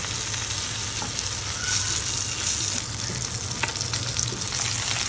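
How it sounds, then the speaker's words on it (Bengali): Koi fish fry in oil on a kitchen stove while a taro curry cooks nearby: an even, moderately quiet sizzle with faint bubbling and a few light clinks from the pan. "আর মাছটাও প্রায় ভাজা হয়ে আসছে"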